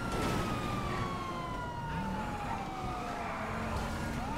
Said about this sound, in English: Sure I could have the lights on without the frickin' sirens.